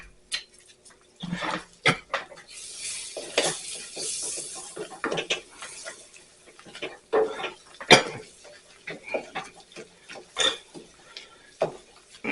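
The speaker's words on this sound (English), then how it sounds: "we're going to stir this until it comes out to a light golden color" Flour being stirred into melted butter in a pot for a cream of asparagus soup roux: soft, irregular scraping and clinks of a utensil against the pot with a faint sizzle, fairly quiet and close.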